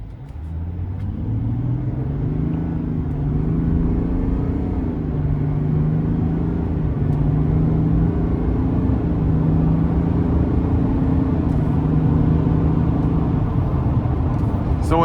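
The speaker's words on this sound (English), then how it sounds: "I'm gonna get it in sport mode, give it a little pull here." A 2026 Chevy Silverado 1500 ZR2 Duramax diesel pickup accelerates in sport mode, its engine droning low and steady, building gradually as it gains speed, with a deep rumbling hum throughout and no voices.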